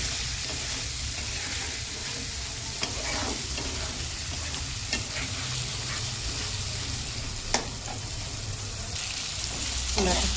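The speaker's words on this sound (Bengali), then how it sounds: "এবারে মশলাটা দিয়ে দেবো দিয়ে ভালো করে কষাবো" A spice paste of ground coriander, cumin, chilli powder, salt, turmeric and tomato fries in a pan with a dense, continuous sizzle, while occasional spatula scrapes and taps mark the stirring and no one speaks.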